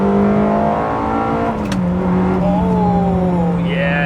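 A manual gated Ferrari 360 V8 from 1999 accelerates hard while driving. The engine sounds close and loud, with a quick gear change, and then its rising pitch climbs again.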